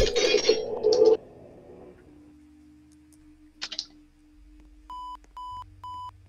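Morse code tones from a website: after a burst of clicking and a low hum, three short, evenly spaced electronic beeps ring out clearly near the end.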